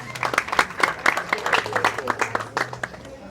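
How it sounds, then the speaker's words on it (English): Applause from guests at a law society dinner, a lively round of clapping with distinct individual claps standing out, moderately close and sustained over the whole stretch. "A round of applause for Mr. Chitimbo Isaac."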